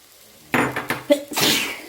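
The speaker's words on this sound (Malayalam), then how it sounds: "അതിനിടയിൽ ഞാൻ തുമ്മുന്നു." A person sneezes while cooking Punjabi mutton masala in a home kitchen: a sudden loud, close burst of breath follows a short quiet stretch, with a few fainter catches and a hissy trailing exhale.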